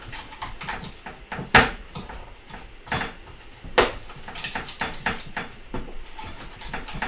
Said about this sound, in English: Just breaking up this butter here